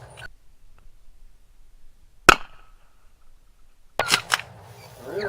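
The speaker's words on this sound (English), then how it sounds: "first round I've ever fired out of the 1898 30-40 Krag." A single loud, sharp gunshot from an 1898 30-40 Krag rifle cracks out of near silence, followed by faint rustling and brief clicking noises a couple of seconds later.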